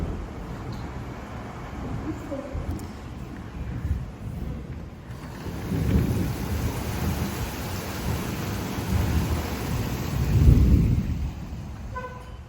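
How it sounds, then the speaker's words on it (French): Steady rain falls with distant rolling thunder building in two swells, a continuous outdoor downpour with no voices. "Bon, et ben il pleut"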